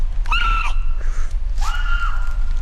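A person crouches and screams an imitation of a Mad Ewok call, two drawn-out, wavering high cries about a second each with a short gap between, loud and close over low background rumble.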